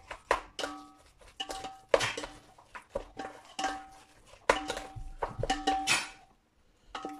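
Meatball mixture with salt being mixed in a bowl, with irregular clinks and knocks of a utensil against the dish, close and intermittent.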